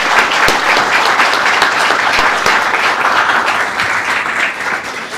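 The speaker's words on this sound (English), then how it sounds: "Can I please get a round of applause for all our presenters tonight?" An audience at an ACRS PhD invitational event claps loudly for the presenters, a dense, continuous round of applause that stays strong the whole time.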